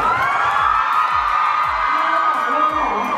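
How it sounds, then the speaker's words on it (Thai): A crowd cheers loudly at a launch event for the Thai horror film 'Anong'. Whoops and shouting run steadily and densely throughout, with voices mixed into the din. "เสียงปรบมือให้จีด้วยครับ"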